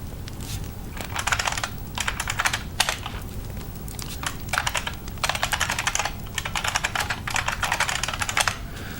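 Fast typing on a computer keyboard, with dense bursts of clicky keystrokes broken by short pauses, close and fairly loud, with no talking over it.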